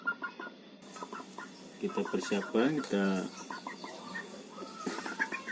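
Chickens cluck and squawk up close in a backyard coop, including sick birds with swollen faces and runny noses, mixed with someone speaking Indonesian.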